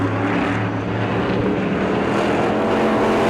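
E-Mod race cars roar around a dirt track at New Smyrna, a loud, dense, continuous engine drone from several cars close together with no break.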